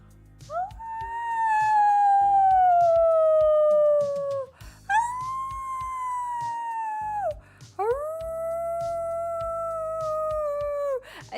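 A person imitates a dog howling, three long drawn-out howls that each slide downward and fade, loud and close, with faint rhythmic background music underneath.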